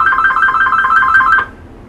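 A telephone rings with a steady warbling electronic trill for about a second and a half, then cuts off, leaving a quiet room during a recorded interview with a former Oregon governor.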